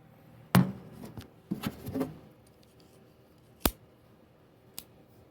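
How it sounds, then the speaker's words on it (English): An H. Schmidt 21S revolver is unloaded, giving a handful of sharp metallic clicks and clacks, a cluster near the start and a few isolated snaps later, close and otherwise quiet. "I'm going to set you guys down and unload the gun"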